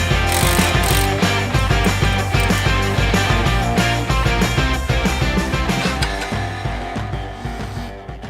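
Ratchet wrench clicking rapidly and repeatedly while a 21mm socket backs out the lower rear control arm bolts on a vehicle, loud and close, with metallic clatter and no talk.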